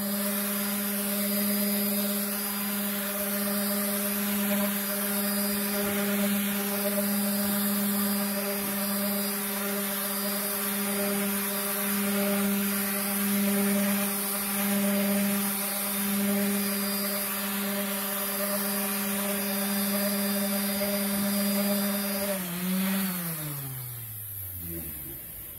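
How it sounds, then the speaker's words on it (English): A power sander works over a painted pecan wood surface with 220 grit paper, making a loud, steady whining hum that holds for a long stretch and then winds down near the end. "now I'm going to just sand the surface, just the high points. I'm using a 220 grit."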